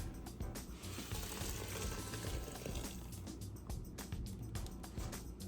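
Running tap water rinsing something off in a kitchen while cooking seafood gumbo, a steady close splashing stream with small irregular clicks and clatters, no talking.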